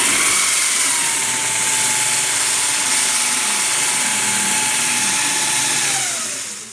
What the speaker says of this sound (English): I'm going to use this buffer that I converted to accept the 8-inch 80 grit that you'd normally get on a mud hog, and I'm going to strip the exterior surfaces